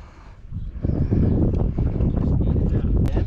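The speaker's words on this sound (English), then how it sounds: "It's getting really windy." Strong gusts of wind roar across an open microphone outdoors on a lake, a loud, steady rumbling buffet with faint voices underneath.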